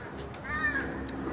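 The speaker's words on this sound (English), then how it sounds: "That hawk must be bothering that crow." A crow, likely disturbed by a hawk, gives a single harsh caw near a farm garden. It is fairly faint, over quiet outdoor background noise.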